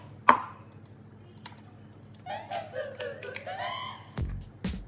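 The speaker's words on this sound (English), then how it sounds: "I'm now going to crack my eggs into a smaller bowl" Eggs being cracked into a small bowl: one sharp crack near the start, then a second sharp knock later, with a voice speaking in between and faint kitchen handling sounds.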